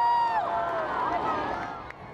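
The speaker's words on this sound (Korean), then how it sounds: "군용기행렬이 링컨 기념관 위로 솟아오르자 환호성이 터집니다." A crowd cheers as military aircraft fly over the Lincoln Memorial at a US Independence Day celebration in Washington DC, many voices rising together in loud, overlapping whoops and shouts that slowly fade.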